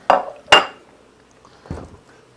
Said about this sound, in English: I get my trusty bowl to keep the heat.